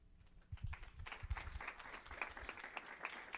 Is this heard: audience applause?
yes